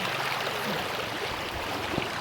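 Continuous close rush of water flowing in a small canal channel, an even babbling wash with no breaks.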